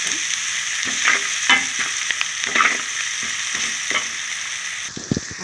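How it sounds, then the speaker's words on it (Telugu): Sliced onions with turmeric sizzle steadily in a hot pan, a bright continuous crackle broken by several scraping stirs of a spatula, close and alone with no voices. "కొంచెం బాగా వేగిస్తాను ఉల్లిపాయలు"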